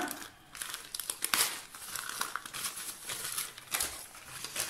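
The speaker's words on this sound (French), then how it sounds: "nous allons ouvrir le paquet de Orlan" A packet from an advent calendar being unwrapped, with paper crinkling and tearing in a steady run of rustles and sharper crackles, close and fairly quiet, with no talk.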